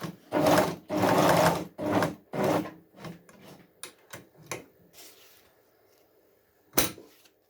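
A portable walking-foot zigzag industrial sewing machine runs in several loud, close bursts of rapid stitching, then quieter scattered clicks and taps follow, with one sharp knock near the end.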